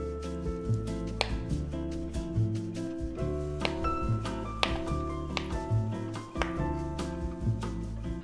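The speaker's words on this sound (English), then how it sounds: "I'm gonna peel it and cube it up" Baked sweet potato is cut into cubes on a board, giving a steady run of soft knife taps and thunks close by, with no talking.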